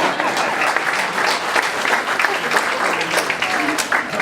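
An audience at a scholar-athlete ceremony applauds the parents with dense, steady clapping that fills the room from start to finish, and talk can be heard faintly beneath it.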